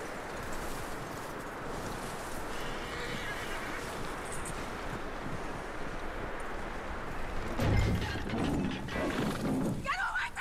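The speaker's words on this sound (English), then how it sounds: "That looks like a decent horse." A horse whinnies in the video game Red Dead Redemption 2 amid scuffling and hoofbeats, with rustling and a few knocks near the end.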